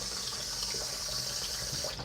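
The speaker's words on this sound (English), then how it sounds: "I'm trying to pour me some soda" Soda pours steadily into a glass with a soft, continuous fizzing trickle, close and fairly quiet.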